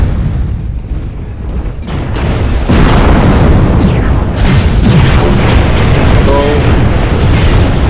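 Missile fire and explosions from the mech combat game Mechwarrior Online: loud, continuous rumbling booms and blasts layered with whooshing launches, dense and close throughout, with a voice talking over the battle.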